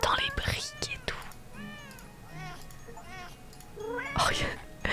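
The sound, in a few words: cat meowing when clicked in video game Hidden Cosmo Cats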